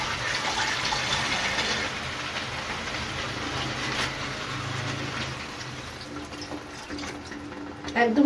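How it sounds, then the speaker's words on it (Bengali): Water pours steadily into a pot to boil aamish sukto, a Bengali vegetable-and-fish dish, as a continuous close splashing rush that eases off toward the end, with a voice faintly underneath. "একদম সামান্য জল দিয়ে আমি এটি সেদ্ধ করতে দিলাম।"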